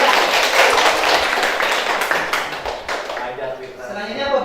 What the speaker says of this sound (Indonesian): Pak Rahman. Tepuk tangan.